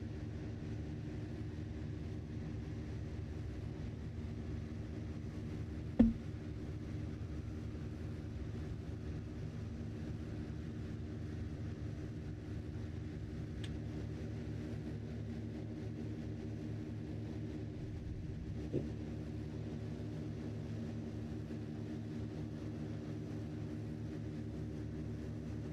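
An airplane engine in Microsoft Flight Simulator 2020 drones low and steady for the whole stretch, with no break in its tone and only two faint clicks on top.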